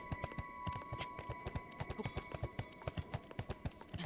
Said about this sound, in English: Kinda sounds like a horse when he's clopping around.